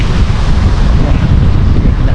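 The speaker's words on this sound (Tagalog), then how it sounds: "Tugnaw na hangin na lami na ikatug." Strong, cold wind buffets the microphone in a steady, loud rush of low roaring noise, with no distinct voices, in Banff.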